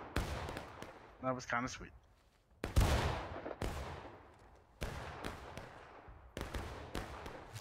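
Musket volleys ring out in the War of Rights game, sharp booming reports with long decaying echoes, one after another. A voice briefly talks between the volleys.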